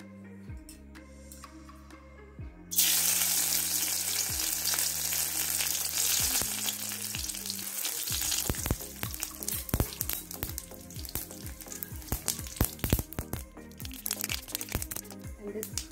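Mustard seeds dropped into hot coconut oil start spluttering with a sudden loud hiss, then crackle and pop in quick sharp bursts over music, growing busier toward the end.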